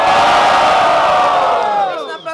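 Loud crowd cheering and shouting at a rap battle in Guarulhos, Brazil erupts at full volume, sustained for about two seconds, then fades out with a few trailing voices.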